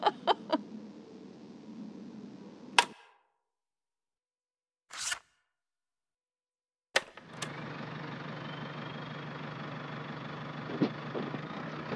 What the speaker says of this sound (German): Hör dir diesen Motor an, wie er schnurrt.